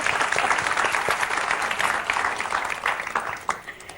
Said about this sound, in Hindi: अभी एक बार जोरदार तालियां वापस से